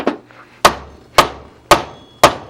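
A hammer whacking on the case of a broken router, five sharp, loud strikes at a steady rhythm about half a second apart, each with a short ring, and no talk.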